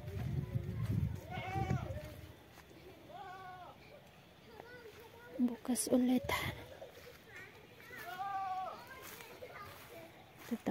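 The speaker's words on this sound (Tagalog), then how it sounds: "nagiyakan yung ating kambing" Goats on a farm bleat several times in wavering cries spread across the stretch, mid-distance, mixed with background noise and brief talk.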